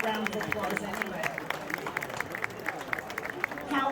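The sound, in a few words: audience applause at Gottscheer Volksfest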